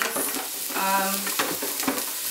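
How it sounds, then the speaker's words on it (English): Onions sautéing in a pan for shrimp creole, a close crackling sizzle with scraping stir sounds and a short tonal hum midway, no talking. "I'm just adding my onions here. Okay. And we're going to saute these."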